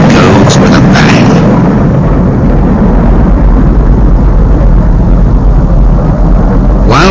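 A dying supergiant star explodes as a supernova in a deep, roaring rumble that opens with a few sharp bursts, then holds loud and sustained without a break.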